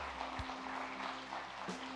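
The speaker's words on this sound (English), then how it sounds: "Give them a big round of applause." A church congregation claps for the band at a Sunday service, a steady wash of applause with faint musical tones lingering beneath it.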